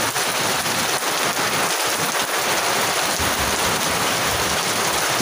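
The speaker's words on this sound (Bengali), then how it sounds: "আস্তে আস্তে বৃষ্টি শুরু হয়ে গেছে" Heavy rain pours down over a village in a dense, continuous hiss, steady and loud throughout with no voices.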